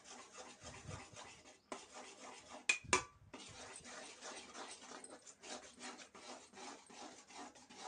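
Gram flour being stirred quickly into sugar syrup in a pan for Mysore pak, a continuous rasping scrape of the spoon against the pan with rhythmic strokes and a couple of sharper knocks, close and quiet.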